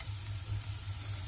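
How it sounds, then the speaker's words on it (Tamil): Onions and capsicum sizzle steadily in a hot pan, a soft continuous frying hiss with a low hum underneath. "இதையும் சேர்த்துட்டு நல்லா வதக்கிக்கலாம்"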